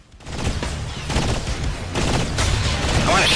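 Rapid gunfire rattles from shooting in Saints Row IV, with dense overlapping shots close and loud that build through the moment without a pause.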